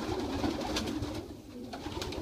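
In a loft of young racing pigeons, several birds keep up a steady, low cooing murmur at close range, with faint rustles and no talk.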